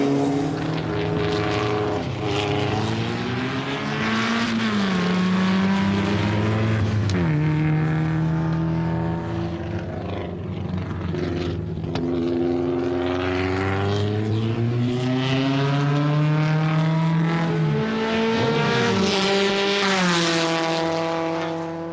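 Racing cars lapping a circuit on an open test day, engines rising and falling in pitch as they pass, loud and continuous with overlapping revving and gear changes throughout.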